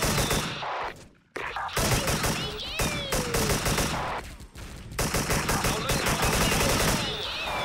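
AK-74 assault rifle fire in the online shooter Special Force, loud sustained automatic bursts nearly throughout, with brief pauses between volleys and game effects layered over the shooting.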